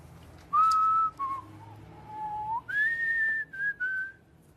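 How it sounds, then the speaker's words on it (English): A man whistles a short, wandering tune alone in a quiet room, the clear notes sliding up and down in several phrases with brief pauses between them. "I think a boy's allowed to whistle if he wants to."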